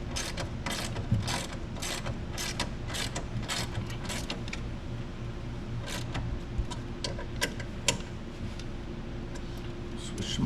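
A hand ratchet tightens bolts on a 2021-2023 Ford Bronco on-board compressor plate, giving bursts of quick clicking strokes through the first half and sparser clicks later, close and steady over a constant background hum.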